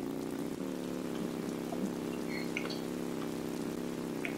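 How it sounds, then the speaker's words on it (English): Rain falling in the Roblox Bloxburg video game, a steady faint hiss of drops with a low continuous hum underneath and a few small isolated ticks. "Such a nice day, but unfortunately raining."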